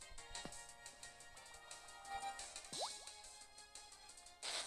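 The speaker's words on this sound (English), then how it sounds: "let's hit him with a water pulse" Water Pulse attack effect in the game Pokemon White 2: faint, quick watery drips and bubbly rising swoops with squishy splashes, ending with a brighter burst, over quiet game music.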